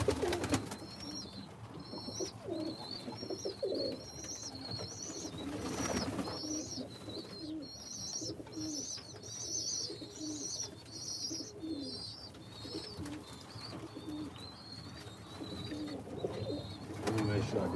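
Birmingham Roller pigeons coo in soft, repeated phrases throughout, close by in a loft, with rustling and shuffling underneath and brief chirps mixed in.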